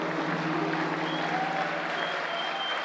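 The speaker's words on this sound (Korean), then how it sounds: "관객석에서 기립박수가 터져 나옵니다" A theatre audience gives a standing ovation after a traditional Korean dance performance, with dense, steady applause filling the hall for several seconds and a sustained musical tone underneath.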